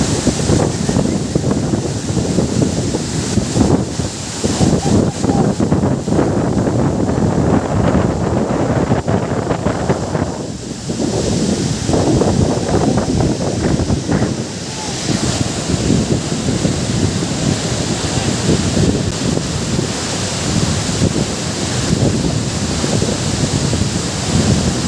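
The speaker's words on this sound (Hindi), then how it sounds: "बहुत ही खूबसूरत नेचुरल वाटरफॉल है।" A natural waterfall at Gunjiwada in Andhra Pradesh, swollen after overnight rain, roars as a loud, continuous rush, with cold wind buffeting the microphone in strong gusts.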